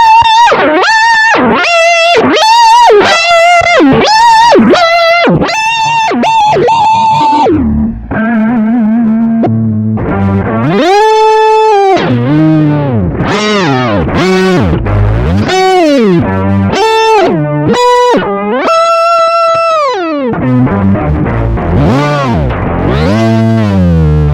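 A distorted electric guitar through a PitchFactor pitch-shifter pedal plays gliding, pitch-shifted notes and chords, buzzy and loud, with warbling effects throughout and no voices.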